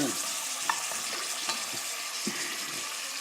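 Salted, peppered squid sizzle and crackle in hot olive oil, a steady frying hiss with scattered small pops and faint clinks, close by and without talk.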